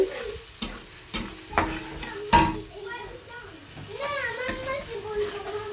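Ground coriander and cumin paste being sautéed for a Bengali fish curry: a soft frying sizzle broken by several sharp stirring scrapes and clanks against the pan, with voices, including a child's, in the background.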